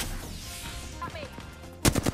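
Gunfire in Apex Legends bursts out as a short, loud cluster of rapid shots near the end, following a quieter stretch of game ambience and electronic sweeps.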